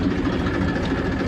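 A tractor engine running steadily, a continuous low rumbling drone heard close by without speech.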